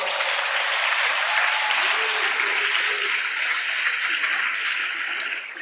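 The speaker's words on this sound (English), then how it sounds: "Let's give them a big round of applause." A big round of applause rises from the audience at the 2015 Texas Great Debate Finals, many hands clapping in a continuous, even roar that holds loud throughout and eases off only at the very end.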